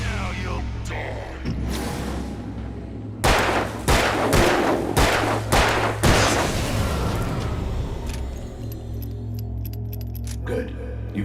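Gunfire in the video game Alan Wake II, a run of five or six loud, sharp shots spaced about half a second apart, heavy and close over a low droning game soundtrack.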